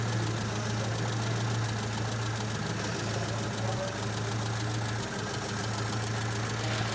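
A Mini's engine idles steadily while the idle mixture is being set, giving a continuous, even drone with a low hum, close and fairly loud, with no voices over it.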